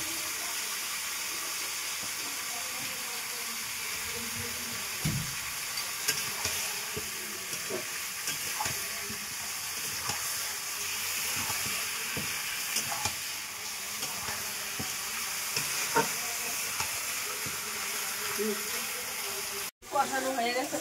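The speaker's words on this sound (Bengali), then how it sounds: "এখন কষিয়ে নেব ভালো করে।" Meat sautéed and stirred in a frying pan, a steady broad sizzle running throughout with scattered scraping stirs and a brief break near the end, close and moderately loud.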